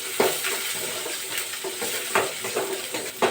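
Crushed onions hit hot oil in a pan and are stirred, giving a soft, steady sizzle broken by several sharp scraping and clinking stirs, close and fairly quiet.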